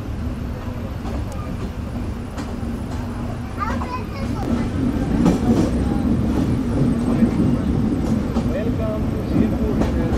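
The Sagardari Express rolls along the rails in Bangladesh after leaving Poradah Junction, a continuous rumbling drone with faint rhythmic clatter that swells louder halfway through, heard from on board.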